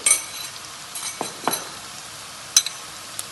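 Onions with masala fried and stirred in a pan for a mackerel dish: a soft background sizzle with a few scraping stirs and a sharp utensil clink near the middle.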